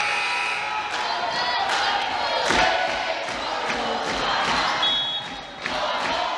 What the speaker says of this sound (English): Cardinal cheer gets the fight song going.